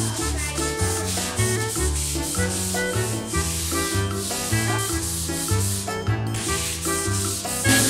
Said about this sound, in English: Libman new and improved Nitty Gritty roller mop. And we're gonna scrub this floor.